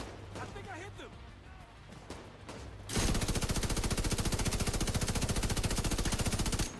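Sustained rapid automatic gunfire from a Division 2 video game firefight, loud and continuous after a stretch of quieter game ambience and chatter, with dense evenly spaced shots for several seconds.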